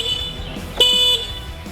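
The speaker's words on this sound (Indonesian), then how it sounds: "ada tombol klakson yang suaranya seperti ini" A Uwinfly T5 electric moped's horn gives one short, bright electronic beep of about a third of a second, close and fairly loud over faint background noise.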